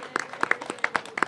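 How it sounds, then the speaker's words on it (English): A small audience claps in scattered, uneven bursts, individual hand claps standing out rather than a dense roar, at a civic initiative launch event with Mayor Bowser. "so give them a round of applause"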